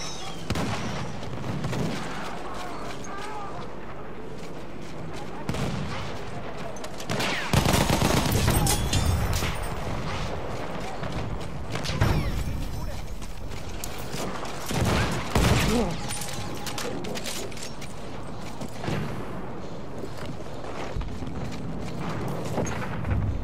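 Gunfire and explosions in the Battlefield 1 Monte Grappa battle, a dense, continuous fusillade of rifle and machine-gun shots with booming blasts, loud and sustained throughout, with a voice talking over it.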